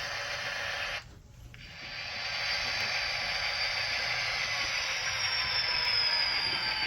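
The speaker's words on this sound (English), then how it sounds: "I think we've got ourselves a decent little locomotive here" An Athearn Genesis F45 model locomotive runs along its track with a steady, close mechanical whir and gear hum, dipping briefly after the first second before settling into a continuous, even drone.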